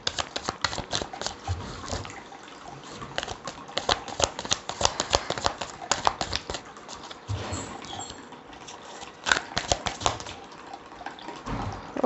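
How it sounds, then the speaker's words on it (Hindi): A deck of oracle cards is shuffled by hand, giving quiet, irregular papery riffles and soft slaps that come in bursts, close up and without talk. "शफलिंग ख़त्म कर देती हूँ।"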